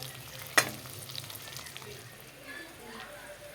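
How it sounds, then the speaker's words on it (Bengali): Onions frying in a pan, a soft continuous sizzle with one sharp clatter of a utensil early on and quieter stirring scrapes after. "পেঁয়াজগুলো লাল করে ভেজে নিই"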